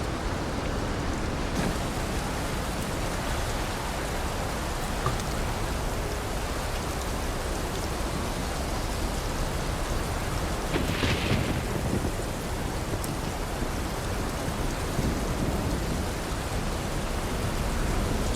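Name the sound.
rainstorm with thunder in a video game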